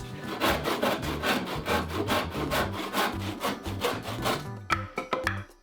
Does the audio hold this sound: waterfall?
no